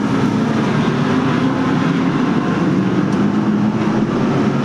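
Late model stock cars roar past on a short oval speedway during a feature race, a steady, loud, dense engine drone filling the air without a break or any voices.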